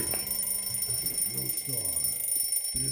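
An alarm clock rings with a steady, high electronic tone that persists throughout, while a person talks over it.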